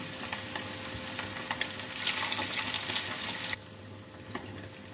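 Gram-flour-coated fish fries in oil with a close, continuous crackling sizzle that swells briefly midway, then drops to a quieter hiss for the last second or so.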